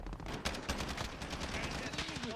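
Rapid full-auto gunfire from a Call of Duty match, a dense continuous burst of shots up close with clattering impacts, and a player's voice partly mixed in underneath.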